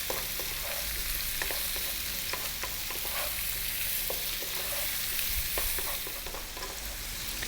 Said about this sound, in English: we're going to go for about 4 minutes more, stir frying this around